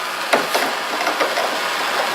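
A Jorgensen clamp is cranked down onto a wood stud, a few soft ratcheting clicks and creaks over a steady background hiss, close and fairly quiet.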